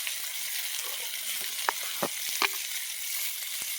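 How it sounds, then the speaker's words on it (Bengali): Potatoes frying in the oil left from frying fish, a steady broadband sizzle with a few brief crackles and pops, close and continuous, no talking. "মাছের তেলে আমি আলুগুলো ভেজে নেব।"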